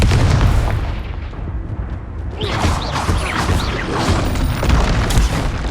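Confringo blasting spells fired in the Hogwarts Legacy video game, heavy booming explosions layered with crackling bursts and chaotic combat noise throughout, loud and close.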